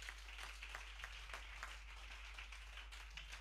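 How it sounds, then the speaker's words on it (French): A church congregation at a prayer and fasting session claps for Jesus, a steady rhythmic clapping at moderate distance beneath a constant low hum, with no talking. "Clap for Jesus"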